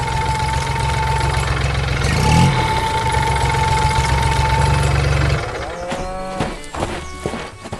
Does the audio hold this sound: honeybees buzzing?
no